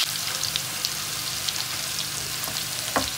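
Onions fry in a pan before meat is added, giving a steady, even sizzle with a few small pops and crackles throughout; no voices.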